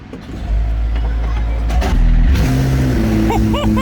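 McLaren P1 engine cranking and firing up at close range, a loud low rumble rising as it starts, with a brief tonal whine near the end.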